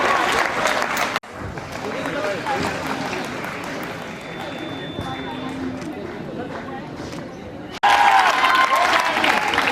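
An audience claps and cheers at a college freshers' party, with a dense, steady burst of applause that continues under a speaker's voice before it cuts off and then swells again loudly at the end.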